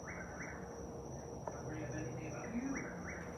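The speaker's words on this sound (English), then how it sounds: "The whippoorwill." A whippoorwill calls outdoors in faint, repeated short phrases, set back in the distance beneath a steady high tone and soft speech.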